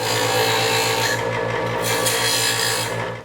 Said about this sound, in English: Let's start grinding these things off.